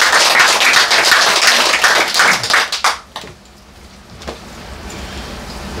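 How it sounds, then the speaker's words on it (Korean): A church congregation claps in praise after a prayer. The loud applause lasts about three seconds, then quickly fades away, leaving a quiet room with a few scattered faint claps. "우리 하나님께 영광 박수 올려드립니다."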